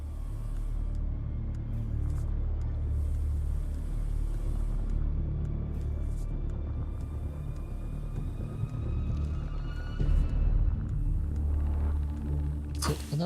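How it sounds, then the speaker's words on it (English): A deep, steady storm rumble rolls through a Dune: Awakening desert scene, loud and continuous, with a brief surge near the end and faint talk beneath. "A storm is coming."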